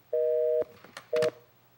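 Busy tone from a disconnected telephone line: two loud, steady beeps about half a second apart, with brief clicks and handset noise between them and no voices.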